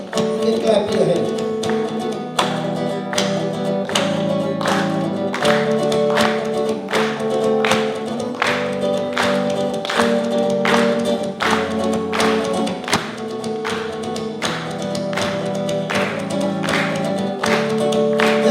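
An audience clapping along in a steady batucada rhythm at a school visit, sharp regular hand claps over sustained tones and voices throughout.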